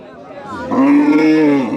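A single loud moo from a small deshi bull at a cattle market rises and holds for about a second, close by, over a murmur of background crowd noise.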